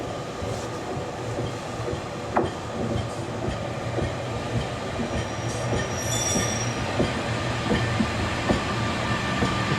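A train in England's South Pennines near Hathersage rumbles steadily along the rails, with faint wheel squeals and clicking joints over a continuous low roar, no voices.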